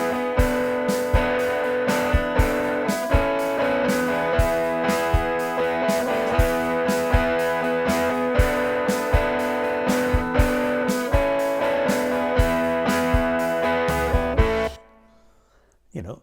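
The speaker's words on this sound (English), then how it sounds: "This is an amp I use quite a lot for electric guitar" Electric guitar fitted with a Fishman Neo D pickup, played through a Logic software amp: a steady strummed, rhythmic part with regular accents for about fifteen seconds, then it cuts off into near silence.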